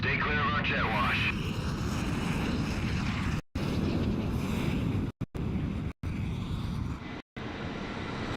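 Jet engines roar steadily in the Xbox 360 combat flight game Ace Combat 6, a loud, continuous rushing drone under radio chatter, with the sound cutting out abruptly several times.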